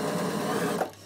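A Bernina overlocker sewing around the edge of a dress, a close, continuous mechanical whirr that runs steadily and then cuts out abruptly near the end.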